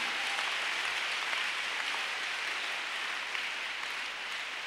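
A church congregation applauds steadily for Jesus during a night service, a dense, continuous wash of clapping that holds at an even level from start to finish with no voices standing out.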